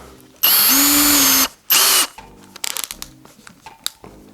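A Milwaukee M18 FPD2 cordless drill bores with a 40mm spade bit in first gear, two loud bursts of whining motor, a long run then a shorter one, followed by faint clattering handling noises.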